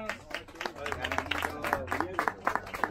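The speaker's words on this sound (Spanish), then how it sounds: "fuerte el aplauso para Lechuza" An audience claps for a performer at an anniversary show, a fairly small crowd giving scattered, uneven clapping for about three seconds, with a voice talking over it.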